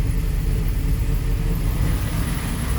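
A car engine with a Tanabe Touring Medallion exhaust sits at a high idle with a steady, throbbing low rumble, close and fairly loud, running evenly throughout.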